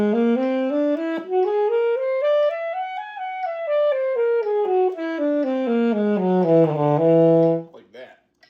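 A clear, airy musical scale glides up and then back down in sustained, ringing tones, played a half step higher than the previous one, loud and alone with no voice over it, ending in a brief soft rustle.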